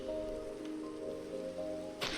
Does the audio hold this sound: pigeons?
no